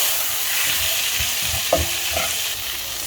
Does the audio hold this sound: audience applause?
no